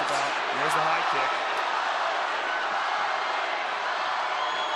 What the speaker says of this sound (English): Crowd getting behind Holly Holm as she tries to slay the dragon tonight.